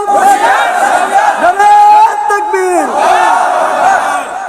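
A large crowd at an Islamic religious gathering in Dhamrai, Dhaka roars a loud, sustained unison takbir response, many voices shouting together in rising and falling waves.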